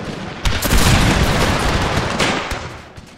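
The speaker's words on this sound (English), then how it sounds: "we should tell the cannons to fire at will. Let's see, can we get another volley?" A cannon volley in the Total War Pike and Shot game, a Netherlands versus Spain battle, lands as a loud burst of overlapping booms that rolls on and slowly fades over a few seconds.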